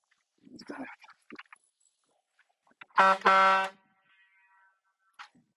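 A short, loud air horn blast from a Jeep Wrangler with onboard air, rich harmonic tone, sounds briefly after some scattered talk and shuffling noises, followed by quiet.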